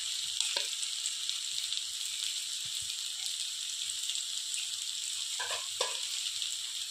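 Turmeric, cumin and chilli powder fry in a pan for a soybean curry, making a soft, steady, hissing sizzle with a few faint stirring scrapes.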